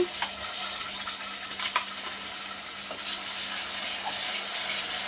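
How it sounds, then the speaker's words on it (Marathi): Ground spice paste for a spicy matki sprout curry sizzles steadily in hot oil. The constant frying hiss is broken by a few soft stirring scrapes, and nobody speaks. "व्यवस्थित आपल्याला तेलामध्ये हे परतून घ्यायचं आहे छान त्याला तेल सुटेपर्यंत आपल्याला हे परतायचं आहे"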